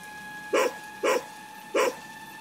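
A dog named Andrew barks three times in evenly spaced, sharp bursts on a rainy night, fairly close against a quiet, low background hum.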